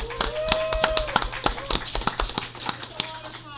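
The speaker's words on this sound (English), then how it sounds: "That gets applause." Scattered clapping at a DragonCon 2018 convention panel on ethics in virtual reality, a handful of hands striking unevenly as a smaller burst dies away, with a voice briefly audible underneath.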